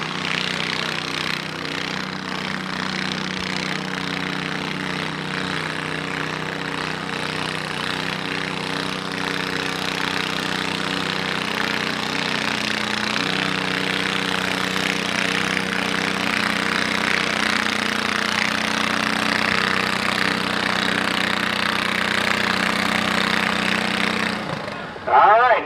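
A 12 horsepower garden tractor engine drones loudly and steadily through a youth-class tractor pull run, its rough, sustained roar holding level before cutting off near the end, with an announcer's voice carried underneath.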